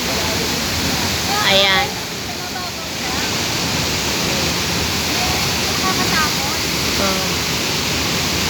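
A powerful waterfall on Camiguin Island roars as steady broadband rushing water through the whole clip, with people talking briefly over it.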